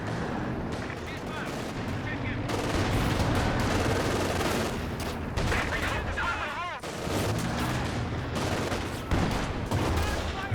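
A ZiS anti-tank gun firing in Company of Heroes 2, with loud, sharp shots repeating through dense, continuous battlefield gunfire and explosions.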